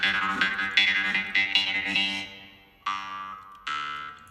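A jaw harp with a V-shaped metal tongue held against the teeth gives a buzzing twang with shifting overtones, several plucked notes in quick succession, then two separate, sustained, decaying plucks, close and clear.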